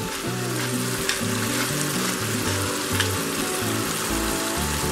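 Pork pilaf with carrots and spices is stirred in a frying pan, giving a steady loud sizzle with soft scraping through the whole stretch under background music.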